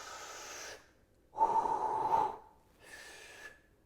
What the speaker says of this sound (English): So as I'm pushing up, I'm breathing out.